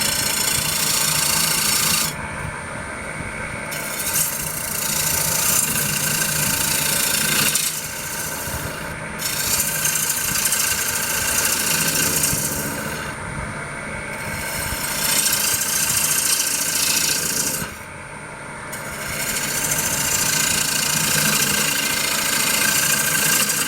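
A wood lathe turns a maple candy dish as the gouge peels shavings, giving a steady, loud, close scraping rasp over the motor hum, with brief lighter gaps where the tool lifts off.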